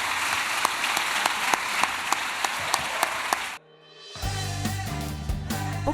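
An audience at a book event gives steady, full applause for several seconds. It cuts off abruptly and a short musical sting follows.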